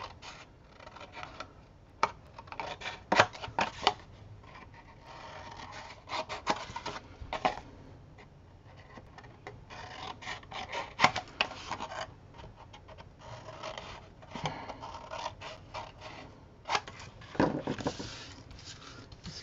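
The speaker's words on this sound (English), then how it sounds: "Miter, cut out the corners." Corners of album board are being mitered and cut by hand: close, quiet scraping and rubbing cuts in irregular bursts, with no talking.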